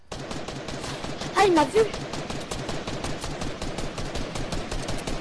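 Rapid gunfire in a first-person video game shooter with sniper fire crackles continuously at moderate level, with a brief louder burst near the middle, while someone speaks French briefly over it.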